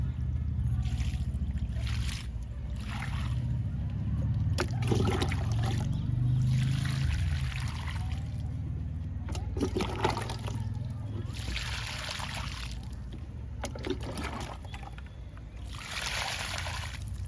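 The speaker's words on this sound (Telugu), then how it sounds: "ఇప్పుడు వాటర్ ఇస్తున్నాను టమాటా మొక్కలకి." Water splashes and trickles in repeated bursts outdoors as tomato plants in a home garden are watered, with someone speaking intermittently over a low background rumble.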